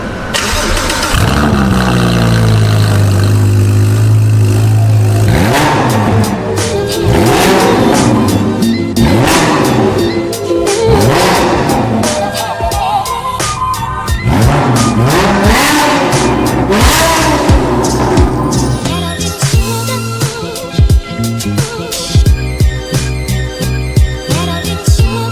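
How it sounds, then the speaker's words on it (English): A car with a Novitec exhaust revs hard and repeatedly, its loud engine note swelling and falling in a series of close, throaty blips. "It sounds so good, and straight through Novitec exhaust as well"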